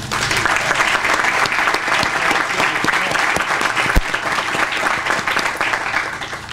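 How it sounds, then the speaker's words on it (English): Sustained applause from a crowd at a groundbreaking ceremony for Thakston Homes, honoring the standing state delegation; steady, dense clapping fills the whole stretch, loud and close, with a faint murmur of voices underneath. "if we could give them a round of applause"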